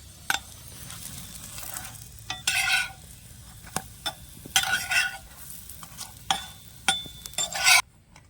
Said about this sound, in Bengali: তেল দিয়ে একটু নেড়ে চেড়ে ভেজে নেব